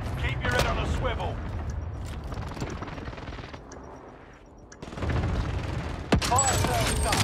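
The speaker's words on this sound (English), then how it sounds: "Enemy cluster strike." Cluster strike explosions in Call of Duty: Warzone, a dense continuous barrage of booms and rattling gunfire-like blasts, loud and sustained with a brief lull before renewed heavy bursts near the end.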